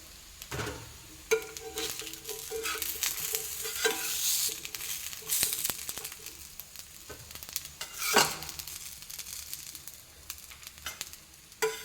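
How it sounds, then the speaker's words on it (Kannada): Pathrode pieces roasting in oil in a pan, a continuous close sizzle broken by repeated scraping and stirring with a utensil and occasional louder crackles. "ನಂದು ಪತ್ರೊಡೆ ಎಣ್ಣೆ ರೋಸ್ಟ್ ಆಗಿದೆ ಈಗ."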